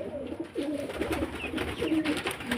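A pair of domestic pigeons, a chhati male and a green female, coo in repeated soft, throaty phrases close by, with a low background rumble and no talking.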